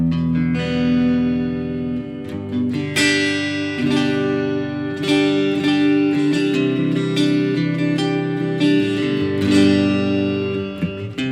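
Guitar run through an MXR Rockman amp-in-a-box pedal straight into a desk with no speaker cabinet, giving a clean, bright, almost acoustic tone. Strummed chords and picked notes ring close and steady, with some reverb, for about eleven seconds without talk.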